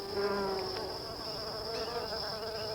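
Maya stingless bees at their hive entrance in a fig tree make a continuous close-up buzzing hum, steady and fairly soft, with no voices.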